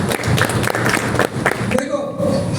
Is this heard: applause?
yes